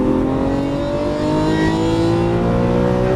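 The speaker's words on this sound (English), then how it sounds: "Accelerate all the way out to the edge." Lamborghini Aventador LP700-4 accelerating out of a corner on a track, a loud steady engine roar with climbing pitch close by, no talk.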